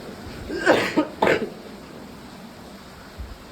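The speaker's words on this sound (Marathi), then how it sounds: "डायरेक्ट डांग्या खोकला झालाय" A person with whooping cough coughing hard twice in quick succession, harsh and close, then quiet room tone.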